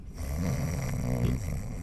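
A person's voice imitates snoring with a single drawn-out nasal snore, close and fairly quiet, heard alone without any talk.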